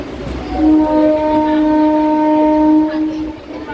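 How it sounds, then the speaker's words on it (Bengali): A metro train at Dum Dum station sounds a long, steady, tonal horn lasting a few seconds, loud and close, with station noise around it. "ওই মেট্রো যাচ্ছে"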